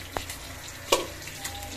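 Fish fry in a pan with a constant soft sizzle, broken by a few sharp crackling pops, one of them louder near the middle.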